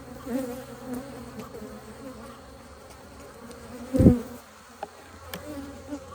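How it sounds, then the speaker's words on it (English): Honey bees buzz steadily around an open hive during a nectar inspection, a dense close drone throughout with a brief loud thump near the middle and a few small knocks. "Seems like these bees are not too happy to see me"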